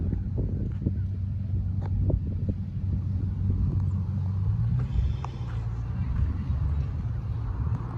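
Loud, deep exhaust roar from a straight-piped pickup truck, a steady low rumble throughout with wind buffeting the microphone and a few faint voices in the background.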